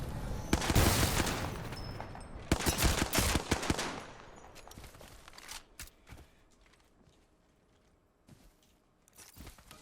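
Gunfire in the video game Apex Legends: rapid automatic bursts crackle close and loud in two clusters, then thin out into scattered, fainter shots and footsteps, with a final burst at the end.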